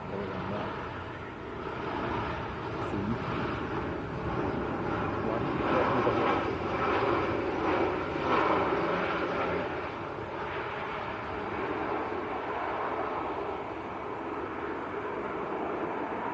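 An EasyJet airliner arriving at Manchester Airport from Athens makes a moderate, continuous jet rumble and whine that swells slightly mid-way, then settles, with no voices.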